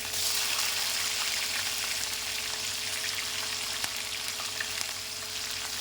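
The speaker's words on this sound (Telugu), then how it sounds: "చూడండి, ఆనియన్, మిర్చి మంచిగా ఫ్రై అయిపోయాయి." Onion and green chili frying in a pan, a steady close sizzle and crackle holding at an even level throughout with occasional tiny pops.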